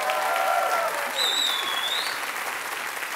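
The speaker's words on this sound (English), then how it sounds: "Give me a little round of applause." A live audience at an evening talk-show event bursts into loud applause, with a sharp rising whistle cutting through the clapping.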